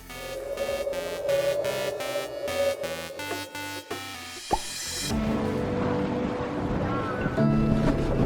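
A 34-foot sailboat cruising on the sea near Formentera, Spain: rhythmic tapping and wind-buffeted hull noise at first, then a broad rush of water and wind fills the rest, moderately loud and close.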